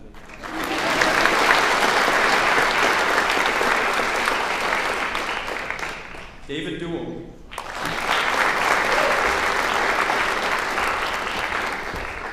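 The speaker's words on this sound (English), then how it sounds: "You can clap." An honors convocation audience claps for honored students: sustained applause for several seconds, a brief pause where a voice speaks, then the clapping resumes just as strongly.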